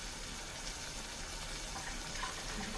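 A tap runs steadily, filling a pot with water in a home kitchen while ground beef cooks for shepherd's pie, giving a faint, even rushing hiss with no voices.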